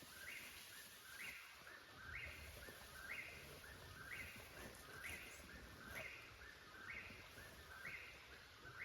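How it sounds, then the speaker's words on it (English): A whippoorwill calls at night along the Appalachian Trail, repeating its rhythmic chirped phrase roughly once a second, somewhat distant and soft over a faint steady hiss. "That's a whippoorwill, the most annoying bird there is, because it'll do that on and off all night long"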